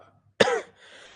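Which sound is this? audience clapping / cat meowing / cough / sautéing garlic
cough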